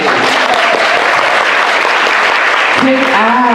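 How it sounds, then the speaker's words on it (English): Audience applause fills a large hall at a convention panel, a dense steady roar of many hands clapping throughout, with a voice speaking over it near the end. "A round of applause for these hands."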